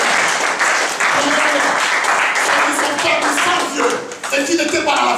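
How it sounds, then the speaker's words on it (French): A church congregation applauds and cheers in praise of the Lord, with dense, steady clapping filling the space throughout and voices rising among the claps. "Est-ce qu'on peut acclamer le Seigneur?"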